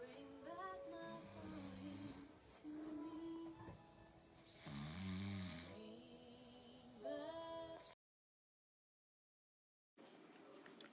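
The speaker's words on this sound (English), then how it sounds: "She's snoring" A woman snores close by, with several long, rasping, uneven breaths rising and falling, then a brief stretch of silence before the sound resumes.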